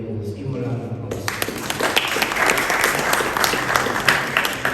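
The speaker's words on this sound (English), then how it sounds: "Give them a round of applause." Applause from an audience at a Quaid-e-Azam Day event held by a Pakistani press club in the UK starts abruptly after a second of quieter room sound, then carries on as loud, dense clapping with scattered sharper claps.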